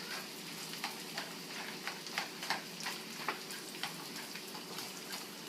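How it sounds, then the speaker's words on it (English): Chopped onions fry in butter in a pan, giving a steady close sizzle with quick crackling pops and small ticking bursts throughout, with no talking. "Add in the onions. We're going to let these cook for a second before we go into the mushrooms."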